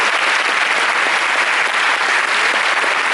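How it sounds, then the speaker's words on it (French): A cinema audience at a film premiere applauds steadily, a loud, dense, continuous wash of clapping from a large crowd with no pauses. "On peut applaudir."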